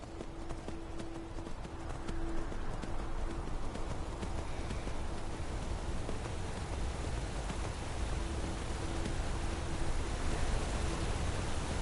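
Horse hooves clip-clop in Skyrim, a steady rhythmic trot over a broad hiss of wind or rain-like ambience, with a faint low tone at the start and again near the end.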